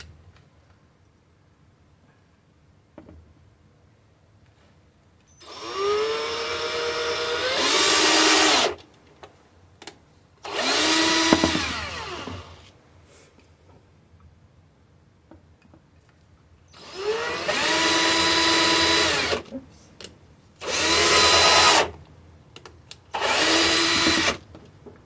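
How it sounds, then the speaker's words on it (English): A power drill drives a self-tapping screw outdoors in a garden in several whirring bursts separated by pauses. Each burst revs up, strains and stops, close and loud. "So a self-tapping screw. Drill it in, drill it, take it out."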